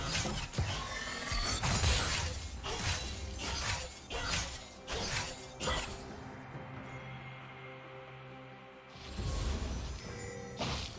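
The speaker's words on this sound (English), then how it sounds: "Red Team's turret has been destroyed." Turret destroyed in League of Legends: a loud crashing, shattering collapse with repeated mechanical impacts and crumbling debris, followed by a quieter stretch and another burst of game effects.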